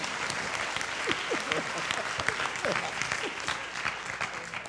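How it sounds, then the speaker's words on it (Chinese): A university lecture audience claps for a guest about to ask a question, a loud sustained round of applause with scattered voices and murmurs mixed into the crowd. "来，我们鼓掌一下，来。"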